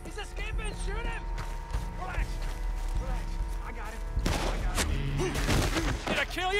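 Gunfire in the video game Red Dead Redemption 2 during a shootout with the O'Driscoll gang, with shots popping over game music and voices, growing louder and denser in the second half.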